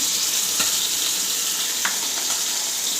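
Fish cooking with potato and cucumber in a pan, frying steadily with a continuous hiss and sizzle and occasional louder sputtering pops, close and alone.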